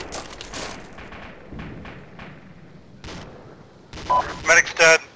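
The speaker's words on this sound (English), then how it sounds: "We're still taking fucking grenades from something." Grenade blasts in the Arma 2 military game, a series of muffled thumping booms spread across a few seconds, ending in several louder, sharper bursts close together.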